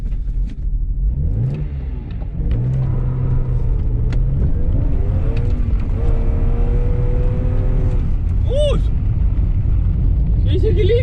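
A BMW E39 diesel car with a fault pulls away, its engine rumbling low and rising in pitch as it accelerates, loud and close, with a driver talking over it and a brief high squeal near the end.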